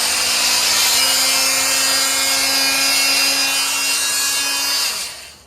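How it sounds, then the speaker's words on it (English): An oscillating multi-tool powered by a portable LiFePO4 power station buzzes loudly and steadily for about five seconds with a high whine, then spins down and stops. "So this is a multi-tool."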